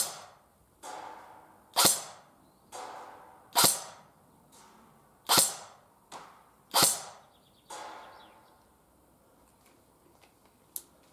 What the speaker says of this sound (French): C'est parti pour le test de tir. Je vais tirer 5 billes.